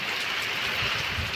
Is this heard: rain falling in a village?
yes